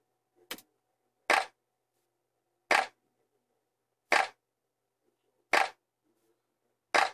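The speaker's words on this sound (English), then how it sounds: "And I went to claps and found this clap." A drum-kit clap sample repeats five times at a steady, slow pace, each hit a crisp, sharp snap separated by silence, dry and alone.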